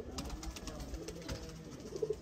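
Pigeons coo in a loft, a soft, low, continuous burbling heard close, with faint rhythmic pulses running through it.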